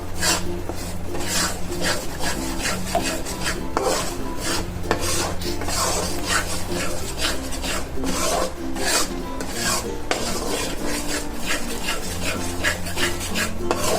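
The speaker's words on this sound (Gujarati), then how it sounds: "હવે આપણે એને ચલાવતું જ રહેવાનું છે જ્યાં સુધી આપણો લોટ શેકાય નહીં" Flour roasting in ghee for gol papdi is stirred continuously in a pan, giving a steady, close scraping and rubbing with no pauses and no voices.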